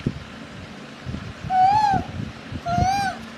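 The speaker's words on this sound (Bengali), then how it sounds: "পাখির ডাক শুনছে" An owl hooting, two clear, close calls, each a short falling hoot, separated by a brief pause against a quiet background.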